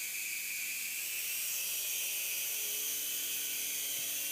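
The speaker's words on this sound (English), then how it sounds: "Move this dial up. Helicopter should start moving." A toy remote control helicopter's rotor spins up into a thin, high-pitched whirring hiss, steady and fairly faint close by.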